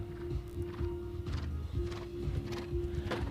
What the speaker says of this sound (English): This horse covers a lot of ground in his stride